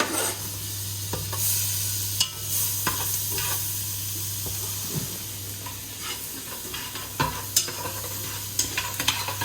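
Garlic sizzles and crackles steadily in a hot pan, with occasional utensil taps and scrapes over a constant low hum.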